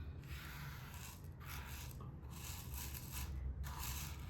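Rhinestones are swept in circles across a plastic template, a soft continuous rattling and scraping with rhythmic swells as small stones shift and drop into holes, close and fairly quiet, with no talking.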